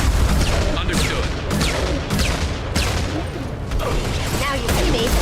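Gunfire and heavy weapons fire in the video game Mass Effect, with repeated sharp bursts over roughly five seconds and dense, loud combat noise throughout, while a voice talks over it.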